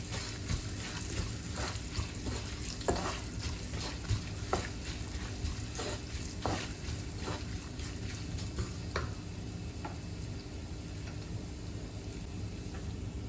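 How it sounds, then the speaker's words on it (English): Cashews tossed into hot oil in a pan while making pongal, a continuous close sizzle and frying crackle with scattered light stirring clicks, no voices. "Now I'm adding handful of cashews."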